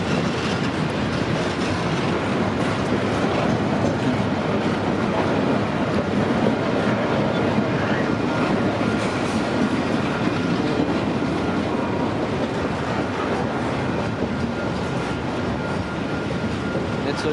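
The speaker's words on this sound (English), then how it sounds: "113, on the other hand, is a daily ran container train." A CPKC container train rolls past close by, with a continuous loud rumble and wheel clatter that hold steady throughout, and no pauses or letup in the noise.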